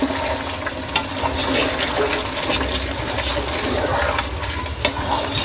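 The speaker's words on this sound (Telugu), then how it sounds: "అది అయినాక తర్వాత మనం నీళ్ళు పోసుకోవాలి కొన్ని" Water is poured into a simmering chicken masala gravy curry, giving a steady bubbling sizzle and wet stirring noise that runs continuously at moderate loudness, with a few sharp clinks.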